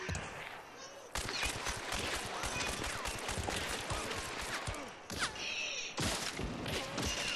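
Gunfire and heavy impacts in the video game Hunt: Showdown crack and thud in rapid, irregular bursts with mechanical clatter, mixed with people talking.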